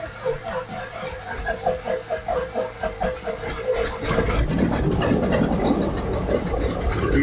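A barn-find airplane's piston engine cranks over in a rhythmic chugging pattern for several seconds, then catches and settles into a loud, steady running roar.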